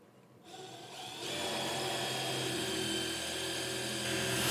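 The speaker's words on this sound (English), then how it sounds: "I am going to use a smaller drill bit to drill the pilot holes now," Power drill boring pilot holes with a smaller bit into a wall for a Walmart Onn TV mount, a whining motor that spins up after a quiet start and then holds a steady, close, rising tone.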